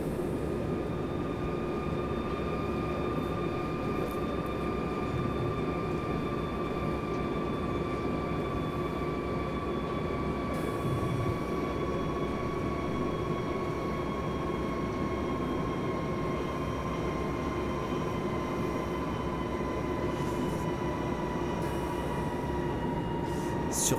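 A Nightjet locomotive runs in Train Simulator 2020 on the Hamburg–Hannover line, a steady drone with long sustained tonal whines and a low rumble throughout. Faint clicks surface now and then.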